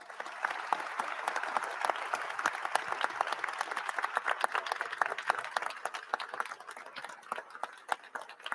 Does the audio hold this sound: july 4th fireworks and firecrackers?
no